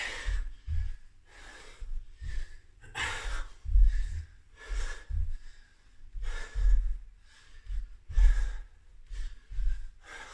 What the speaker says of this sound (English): Just keep breathing nice and deep.